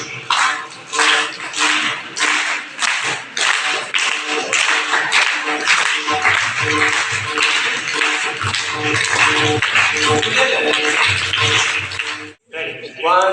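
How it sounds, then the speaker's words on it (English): A group of students claps a steady four-count rhythm during a school workshop at Kendriya Vidyalaya Shivamogga, with dense repeated claps filling the room and a low hum underneath. "If you don't take a clap, you can just clap 1, 2, 3, 4."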